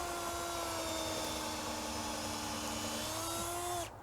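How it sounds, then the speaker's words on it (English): A power drill boring a tap hole into a maple tree for sap collection, a steady high motor whine with a constant pitch that drops slightly near the end before cutting off. "Angling the drill."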